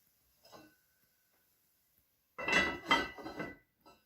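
Metal pot lid set back onto a pot while cooking whiskey pot roast: a faint clink, a pause, then a cluster of close, ringing metallic clatters and rattles as the lid settles, in an otherwise quiet kitchen.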